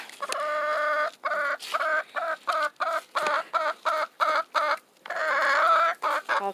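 Seven backyard chickens clucking eagerly at feeding time over a scoop of mealworms, a close, busy stream of short repeated clucks and squawks with a few longer excited calls.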